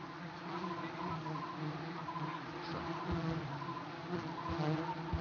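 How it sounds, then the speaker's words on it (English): Swarm of wild bees at the Lion Rock cliff ledge in Sigiriya, giving a continuous dense, droning buzz with steady intensity and faint rumbling underneath. "the bees grow increasingly agitated by the noise and vibrations of the crowd"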